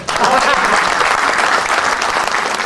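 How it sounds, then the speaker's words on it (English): A seminar audience breaks into loud, sustained applause, a dense wash of clapping that carries evenly from start to finish with no voices rising above it. "Give him a big round of applause."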